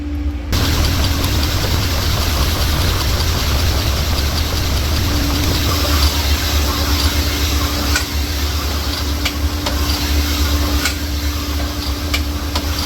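Cylinder hone running inside a Toyota 3VZ / Nissan VG30 engine cylinder, dwelling at the tapered bottom of the bore; a steady, loud, continuous grinding whir with a low hum beneath and no pauses throughout.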